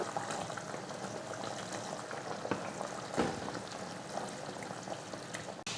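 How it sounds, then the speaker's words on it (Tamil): Fish pieces go into a thick, simmering fish curry and are stirred gently, a soft continuous bubbling with a few faint utensil knocks, quiet and close. "மீன் சேர்த்ததுக்கப்புறமா லைட்டாக மட்டும் இந்த மாதிரி கலந்து விடணும்"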